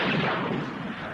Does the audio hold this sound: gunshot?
yes